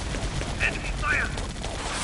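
Enemy gunfire in the Vietnam air combat game Air Conflicts: Vietnam makes a brief, dense rattle of shots over constant engine roar, loud and continuous throughout.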